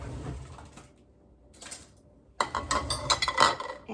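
A small bowl clatters and clinks against dishes in a home kitchen, a few sharp handling knocks growing busier near the end, close and moderately loud with no talking.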